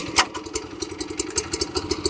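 A Kyoritsu K1620 straw cutter's small engine running just after choking, a close, loud, rapid and slightly uneven putter of firing pulses with no talk.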